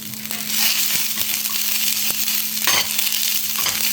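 Green chillies and mint leaves fry in a pan for a pullav, making a close, steady sizzle broken by a few sharp crackles and scraping stir sounds, with no voices.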